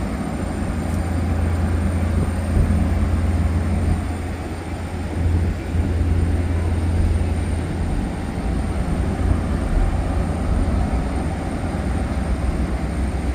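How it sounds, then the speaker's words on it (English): A Patchogue-bound diesel train pulls out of Babylon station, a steady loud low engine rumble with rolling rail noise that holds close by and swells and eases slightly as it departs. "There goes the Patchogue diesel"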